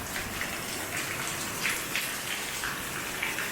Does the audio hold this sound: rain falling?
yes